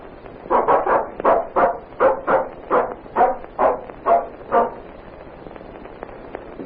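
A single dog barks in a steady run of about a dozen evenly spaced woofs, fairly close and clear, then falls quiet for the last couple of seconds.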